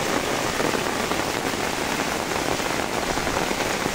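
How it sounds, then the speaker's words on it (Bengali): Heavy rain falls over flooded fields in Kaharol, Dinajpur, making a dense, even roar of drops that continues without a break and without voices. "এখন পর্যন্ত বৃষ্টি পড়তেছে ঝিপঝিপ করে।"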